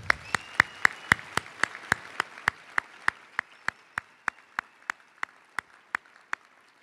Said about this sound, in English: How about another round of applause for Mr.